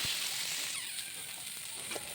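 Carrots and peas frying in oil in a pan with salt and turmeric, giving a continuous bright, close sizzle with faint stirring scrapes, no talking.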